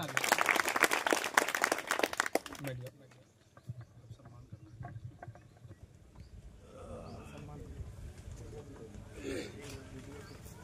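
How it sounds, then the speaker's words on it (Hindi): Audience clapping loudly for about three seconds at an education centre honour ceremony, then fading into murmuring voices and room noise. "एक बार जोरदार तालियां"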